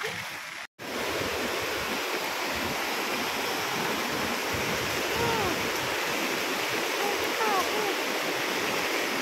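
Typhoon floodwater rushes like a river in Quezon, making a steady, loud, broadband roar that fills the clip without letting up, apart from one brief dropout near the start.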